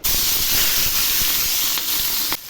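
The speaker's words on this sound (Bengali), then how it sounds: "তেল গরম হয়েছে, এখন আমি মাছগুলো ছেড়ে দিচ্ছি।" Small fish hit hot oil in a pan with a loud, close, broad hiss of sizzling spatter that holds steady, with a few sharper crackles along the way.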